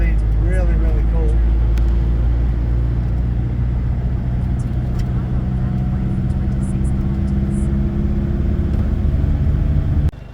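A car drives a mountain road through Wollemi National Park, giving a steady, loud engine and tyre rumble close inside the cabin, with a brief voice near the start.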